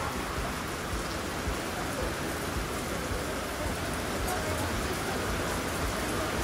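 Heavy rain pours steadily during an outdoor meal at a camping car festival, a dense, unbroken hiss that stays loud and even throughout with no pauses.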